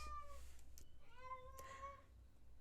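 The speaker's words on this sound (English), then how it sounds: "This cat is going to be in my room and she will be meowing in the background" A cat meows twice, a short call followed by a longer drawn-out one, over a low steady hum.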